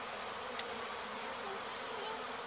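Honey bee swarm with three queens being removed in Weslaco, Texas, a dense, steady buzzing hum of many bees close by, continuous and uniform with a faint brief tap, no talk.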